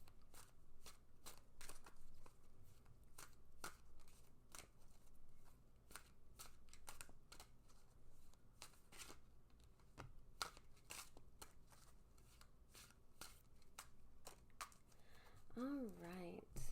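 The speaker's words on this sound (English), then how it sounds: "Now I'm going to shuffle the cards" Tarot cards shuffled by hand in a quiet room, a steady run of soft riffling and slapping bursts repeating for many seconds, close and moderately loud, with a brief voice-like murmur near the end.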